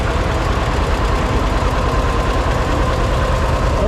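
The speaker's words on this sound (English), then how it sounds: "He's driving a John Deere 630 1959." A 1959 John Deere 630 tractor engine idles steadily at a classic tractor parade, a loud continuous low rumble with dense broadband noise and no pauses, no talk over it.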